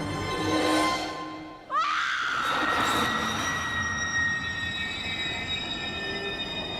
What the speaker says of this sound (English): train brakes screech in the background